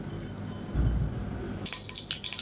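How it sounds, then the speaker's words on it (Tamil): Mustard seeds splutter and pop in hot oil in a pan as breakfast cooking begins, a low sizzle followed by a quick cluster of sharp crackles near the end. "கடுகு நல்லா வெடிக்க ஆரம்பிக்குது."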